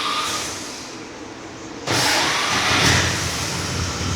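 A 1935 Dodge Brothers sedan with a flathead six-cylinder engine cranks and catches, jumping into a steady, close, rumbling run that swells briefly before settling into an even idle.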